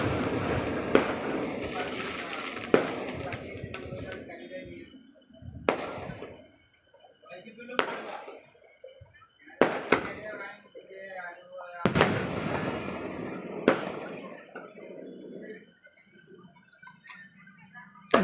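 Fireworks bursting outdoors: a series of sharp, loud bangs at irregular gaps, some in quick pairs, with a crackling tail after each, while people talk between the blasts.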